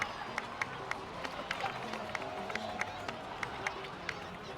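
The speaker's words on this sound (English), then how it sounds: "please give another round of applause for them" A crowd applauding in the video game Genshin Impact, a sparse, fairly faint patter of individual claps scattered over a low murmur of ambience, with no clear talk on top.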